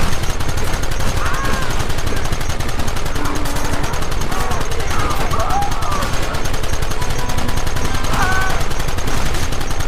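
Dense, continuous gunfire in the video game Red Dead Redemption: rapid overlapping rifle and pistol shots crack nonstop at close range, with voices shouting amid the shooting.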